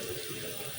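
Water poured from a tap into a pot of soaked mung lentils in a home kitchen, a short steady rushing splash heard up close with no voices.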